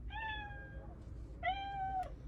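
Two recorded cat meows, a long drawn-out one and then a shorter one, played clearly through the speakers of a 2021 Mercedes S-Class voice assistant inside the quiet car cabin.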